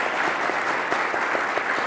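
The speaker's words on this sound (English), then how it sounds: "Please can we give them a round of applause?" Conference audience applauding the panelists at a general session, a steady wash of many hands clapping at a moderate distance with no talk.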